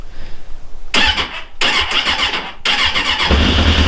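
Street motorcycle cranked with the choke on in a snowstorm: three bursts of starter grinding and engine catching, the last firing into a rough, steady idle, loud and close.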